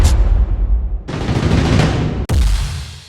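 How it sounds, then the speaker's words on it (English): Heavy explosive booms and rumbling blasts, loud and close, with a sharp cut and a second burst following; no voices. "I want my explosion for sure."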